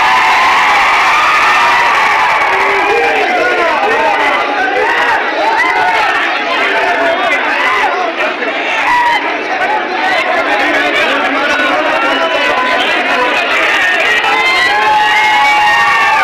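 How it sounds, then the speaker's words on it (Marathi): A crowd cheers and shouts at a Shiv Sena victory celebration after a municipal council election win in Dudhani, a dense, loud and sustained roar of voices with whoops throughout. "दरम्यान विजयानंतर शिवसेनेच्या वतीनं जल्लोष करण्यात आला"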